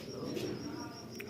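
Pigeons in a rooftop loft cooing softly, a faint low murmur of coos with a few brief chirps, quiet and close.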